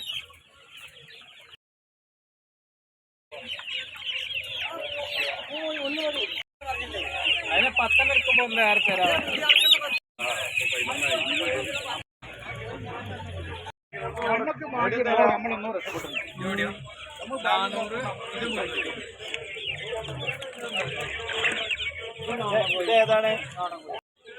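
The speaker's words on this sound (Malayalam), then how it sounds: "നാടൻ കോഴിക്കളും ഗിരിരാജിയും എല്ലാ ഇനം ഉള്ള കോഴിക്കുട്ടികളും ഉണ്ട് കേട്ടോ" Chickens and chicks, including Giriraja chicks, cluck and cheep continuously in a busy, crowded chorus at a market, with a few brief gaps and some talking mixed in.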